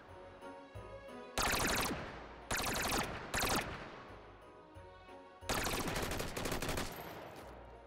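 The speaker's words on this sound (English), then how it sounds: "Celebrate with some gunfire right there." Automatic gunfire in Hot Dogs, Horseshoes & Hand Grenades VR: four loud, close bursts of rapid shots, the last one longest, separated by short quiet gaps.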